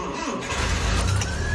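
A reconditioned engine in a restored 1982 Toyota Hiace campervan with a stick shift cranks and fires up, settling into a loud, steady low rumble that fills the short clip with no talk over it.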